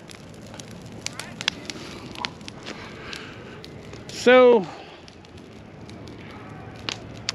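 A campsite bonfire at Kimbal Bend Park on Whitney Lake crackles with scattered faint pops, a voice speaks briefly, and one loud squawk stands out in the middle.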